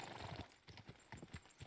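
Horse hooves gallop at a steady rhythmic clip-clop while riding in Kingdom Come Deliverance 2, with a brief neigh near the start; the hoofbeats are close and fairly loud.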